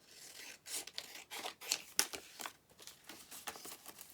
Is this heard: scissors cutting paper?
yes